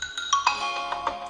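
Ringtone preview on Oxygen OS running on a Redmi Note 7 Pro phone: a short, bright melodic chime of several quick tonal notes, clear and close, with no talking.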